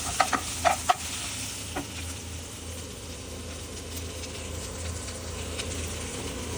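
Onions and spices for chicken curry sizzle in a pan, with several sharp utensil clinks early on, then a continuous moderate frying hiss beneath a low steady hum.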